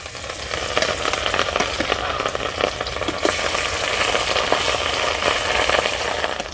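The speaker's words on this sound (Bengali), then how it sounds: "তেল গরম হয়ে গেছে মাছগুলো ভেজে নেব" Steady, loud sizzling of rohu fish pieces coated in turmeric frying in hot oil, a dense continuous crackle with occasional sharper pops.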